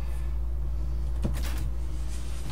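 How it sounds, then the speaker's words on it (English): A door swung shut in a room, one short muffled thud with a quick rattle midway, faint over a constant low hum. "shut the door."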